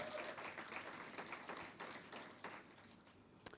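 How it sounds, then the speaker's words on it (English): Faint audience applause at a stroke symposium, a scattered patter of clapping hands that thins out over a few seconds, with one sharp clap near the end. "Give them a big round of applause."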